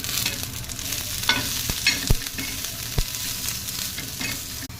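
Chopped green chillies and garlic with a little salt roast in a hot pan, sizzling steadily with intermittent stirring scrapes and a few sharp clinks of the spoon.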